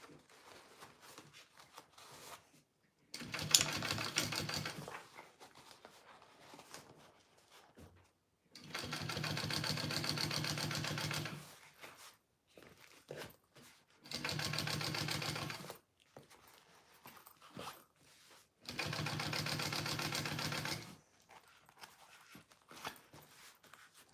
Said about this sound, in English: now top stitch those 2 layers right there